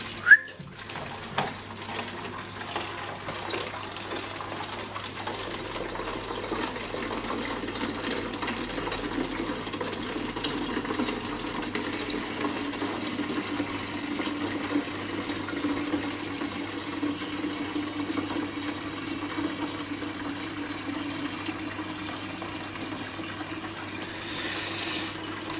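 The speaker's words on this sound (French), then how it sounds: "je remplis ça avec ma flotte" Aquarium water for a nano shrimp tank pours steadily into a container over salt, a continuous close trickle and gush lasting many seconds with a faint hum underneath and no talking.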